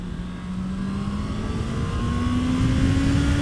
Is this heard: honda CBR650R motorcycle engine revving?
yes